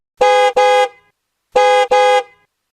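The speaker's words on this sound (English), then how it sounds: "I heard his honk" A car horn honks twice in quick succession, pauses, then honks twice again, clear and close with nothing else around it.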